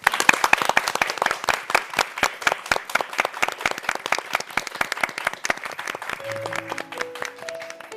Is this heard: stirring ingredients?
no